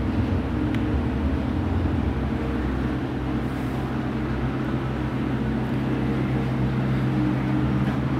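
A maroon 2007 Honda GL1800 Goldwing motorcycle engine runs at a smooth, steady idle, a continuous low rumble heard close and alone without any talk.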